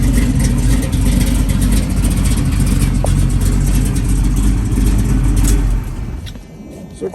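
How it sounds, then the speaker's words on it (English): A cammed 1969 Chevrolet Camaro engine runs at a loud, close, lumpy idle for several seconds, then fades a little near the end. "Sounding car, nice cam in there."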